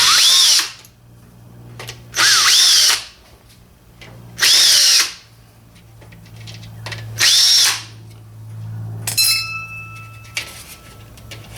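Power drill backing out small stainless Phillips screws from the grill of a Jaguar X-Type, four loud close whirring bursts with pauses between, followed by a light metallic clink.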